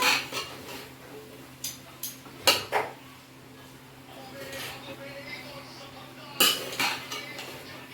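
A metal spoon scrapes and clanks against a large cooking pot while spiced rice is stirred, sharp irregular clinks with quieter gaps between them, and a voice talks over the clatter.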